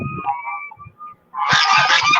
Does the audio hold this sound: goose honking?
yes